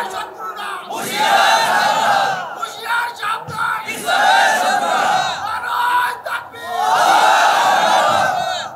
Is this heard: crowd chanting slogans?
yes